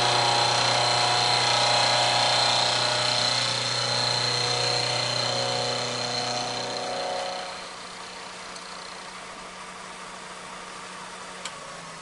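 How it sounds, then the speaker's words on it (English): Milling machine running as it cuts a flat on a workpiece, a steady close whirring hum with tonal whine that drops off partway through, leaving a quieter low background. "So milling machine's on."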